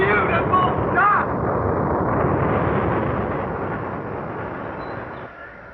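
Roaring rocket lift-off effect for a radio drama, a loud sustained rumbling blast that slowly fades over several seconds.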